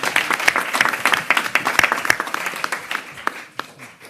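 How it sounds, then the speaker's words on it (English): Audience applause at a mayoral press conference, a dense, steady patter of many hands clapping close by for about four seconds, thinning slightly toward the end. "Let's give her a round of applause."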